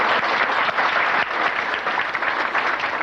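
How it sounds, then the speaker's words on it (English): An audience at a 1997 awards ceremony applauds loudly and continuously, a thick wash of clapping with no voices on top. "we want to applaud Donna at this time"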